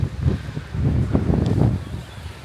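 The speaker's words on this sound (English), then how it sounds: "I'll probably have to cut the audio because it's very windy." Gusty wind buffeting the microphone on the Greek island of Ios, producing loud low rumbling bursts that swell and fade.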